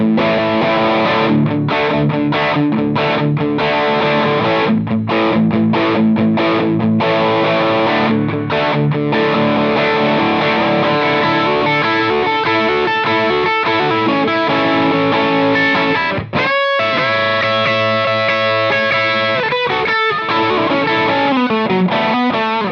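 An electric guitar with PAF-style pickups played through an overdrive pedal into a Fender amp, a loud, continuous distorted rock riff with chugging rhythm and sustained chords and no voices.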